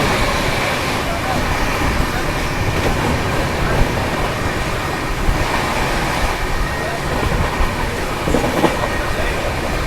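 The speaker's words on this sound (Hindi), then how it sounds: "क्या ट्रैक साउंड आ रहा है।" Sampark Kranti express train running at high speed on the track as it skips through a railway station, a loud, steady roar of wheels and rushing air heard continuously from on board.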